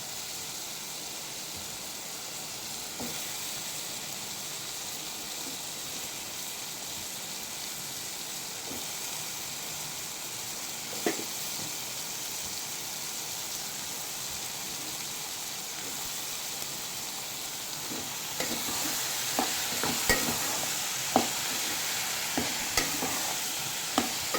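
Eggplant pieces frying in oil in a pan, a soft continuous hiss with occasional stirring taps that grow more frequent near the end.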